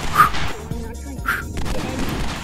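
Two loud, punchy shotgun blasts in the VR shooter Stride, about a second apart, each a harsh crack over a busy background of game noise and low rumble.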